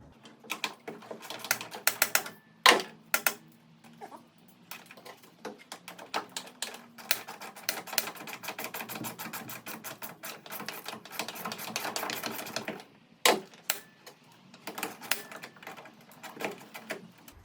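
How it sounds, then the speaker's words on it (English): Bolts being loosened on a Jeep CJ5 during a teardown: rapid mechanical clicking and ratcheting bursts, some sharp knocks, with short pauses between runs, close and moderately loud, no voices. "Let's get those bolts loose."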